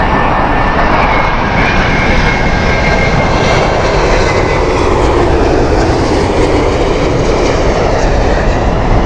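Airbus A330neo airliner passing at Heathrow Airport in heavy winds, a loud continuous jet engine roar with broad rushing noise, sustained and close throughout.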